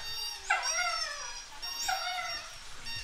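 A Springer Spaniel at home howls twice, each a rising then falling drawn-out wail, fairly close and alone over quiet room noise.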